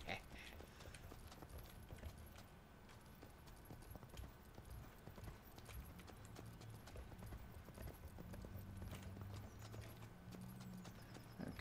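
In the video game Rustler, a horse pulling a cart clip-clops steadily with rhythmic hoofbeats throughout, quiet, with someone talking over it.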